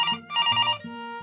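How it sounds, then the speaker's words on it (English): A telephone bell rings in repeated tonal bursts, loud and close, with no voices, in a quiet home where a baby sleeps. "Suddenly, the telephone starts ringing."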